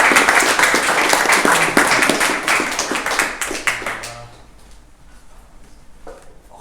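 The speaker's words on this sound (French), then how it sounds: "Et on peut les applaudir." Audience clapping for a team on stage at a coding bootcamp demo day in Lausanne, loud and dense at first, then thinning out and fading over the last couple of seconds.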